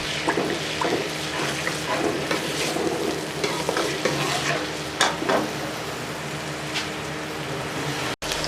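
Onions fry in a pan for a potato and black-eyed pea curry, a constant sizzle broken by scraping stirs and clinks of the spoon. Close and fairly loud, with no voices.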